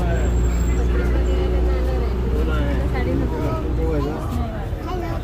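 A bus on a picnic outing out of Ganeshnagar, its steady low engine rumble and road drone running throughout, with passengers chattering faintly in the cabin.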